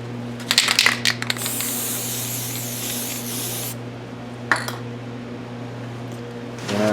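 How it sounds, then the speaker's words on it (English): Aerosol disc brake quiet sprayed from a can onto the backs of brake pads during a 2010 Subaru brake job, heard as close hissing bursts, one long and one short, over a low steady hum. "Just spray in a can, spray it to the back of your pads there."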